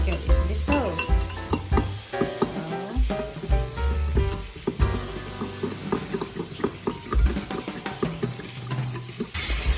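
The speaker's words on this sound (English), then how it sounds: "don't forget to give it a stir until it dissolves." A spoon stirs a stock cube and water into a chicken fricassee in a pot, giving repeated close clinks and scrapes against the metal, with a soft bubbling sizzle under an uneven rhythm.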